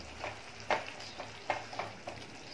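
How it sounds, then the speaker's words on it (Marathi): Raw mango pickle, sweet, sour and spicy, simmers quietly in a pan, a faint low bubbling broken by a few soft, irregular taps and stirs. "तर 1 मिनिट जरा उकळी येऊन द्यायची आहे"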